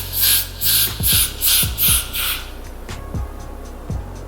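Hands rub hairspray into the hair edges along the hairline before a wig goes on, giving about five brisk, close, evenly spaced rubbing strokes, followed by quieter scattered handling taps and soft thumps with no talking.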